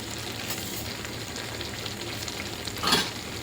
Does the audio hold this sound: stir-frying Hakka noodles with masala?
yes